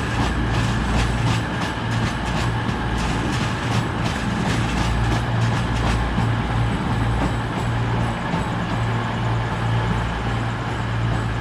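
A train rumbles through Sheffield station, a loud steady low drone and rolling rattle of wheels and carriages lasting throughout, with no talk.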